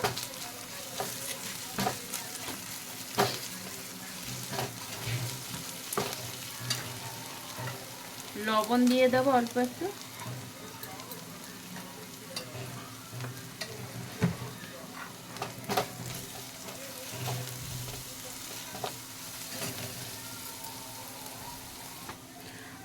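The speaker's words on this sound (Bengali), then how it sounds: "আদা রসুন পেঁয়াজের সাথে ভালো করে ভাজা হয়ে গেছে" Onion frying with ginger-garlic paste in a pan while being stirred, a soft steady sizzle with a louder burst of scraping and stirring midway, and someone talking briefly over the cooking.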